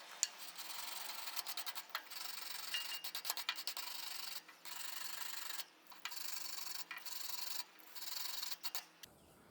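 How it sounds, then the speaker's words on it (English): A stainless wire brush scrubs an aluminum socket ahead of MIG welding repair work, giving fairly faint, rapid rasping strokes that keep on with short pauses between bursts and no talk. "I'm just going to use a stainless wire brush"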